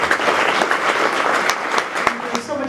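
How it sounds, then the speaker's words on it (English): An audience at an interfaith conference gives a round of applause, dense steady clapping with a few sharp individual claps standing out, close and loud throughout. "I want you to join me again with a round of applause"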